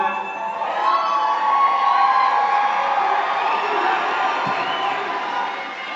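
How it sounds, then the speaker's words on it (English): A large crowd at the AmericaFest rally in Phoenix cheers and whoops continuously, a dense roar of voices with scattered shouts that swells and then eases slightly. "What an amazing crowd all of you are"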